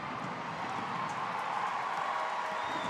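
Steady crowd roar from a rainy Portland stadium during a Portland Thorns women's soccer match against Sky Blue FC, a dense, even wash of distant cheering with no single standout voice.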